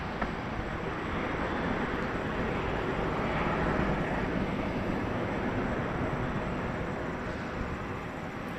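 A WestJet Boeing 737-700 roars with a steady broadband jet rumble at Toronto Pearson airport. The noise holds loud and continuous, swelling slightly midway, with no talk.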